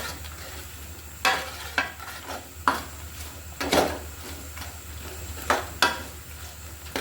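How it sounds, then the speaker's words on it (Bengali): Spice masala gets stirred into garlic in a hot pan for a garlic pickle: a soft sizzle runs throughout while a spoon scrapes and knocks against the pan in irregular, fairly loud strokes. "কিছুক্ষণ আমি এভাবে করে নেড়ে চেড়ে মশলাটা কিন্তু আমি রসুনের সাথে মিক্স করে ফেলবো।"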